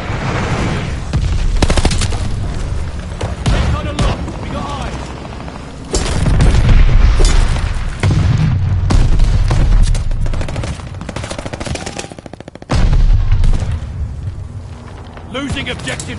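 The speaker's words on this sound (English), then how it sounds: "Enemy's got a glide bombing coming." Glide bombing explosions in the video game Vanguard: loud, heavy booms and bursts of gunfire rolling through a battle, with players talking over the din.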